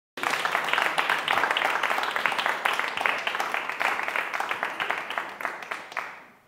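Loud audience applause at a live gospel music show, dense clapping that fills the scene and gradually fades out toward the end, with no talking over it.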